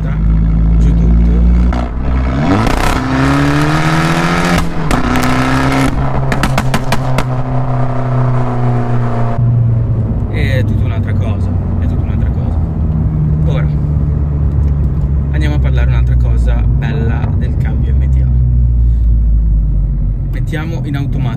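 A Fiat 500 Abarth with MTA gearbox pulls hard in fourth gear in sport mode, its engine note climbing loudly in rising sweeps before easing into a steady rumble, with someone talking over it.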